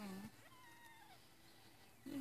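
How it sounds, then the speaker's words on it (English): Several faint, thin meows from newborn kittens a few days old, drawn-out rising and falling cries in a quiet room, followed by a brief louder vocal sound near the end. "Who just meowed?"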